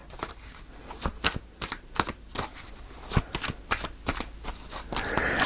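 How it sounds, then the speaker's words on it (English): A deck of tarot cards shuffled close by in quick bursts of papery riffles and taps, fairly soft and alone, with short gaps between each pass. "Okay, I'm just going to shuffle one more time."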